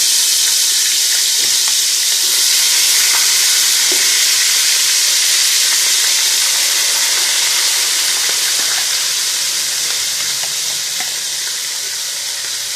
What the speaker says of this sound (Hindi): अब मैं इसमें चिकन ऐड कर रही हूँ।